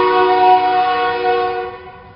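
A loud, sustained train horn blares in one long chord, close by and alone, fading slightly as it ends.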